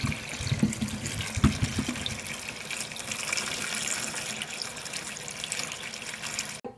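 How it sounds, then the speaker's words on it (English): Potatoes being washed and scrubbed with a loofah under a running sink tap, a continuous rush of water with bumps and splashes from handling near the start. "The next thing going over in here is the potatoes to wash. And my loofah to give them a good scrub."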